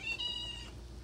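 A house cat gives one brief meow, close and fairly soft, over a low background hum.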